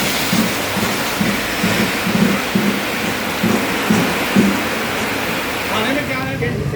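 Rain falls outdoors as a continuous hiss of steady noise close by, while people chatter intermittently over it.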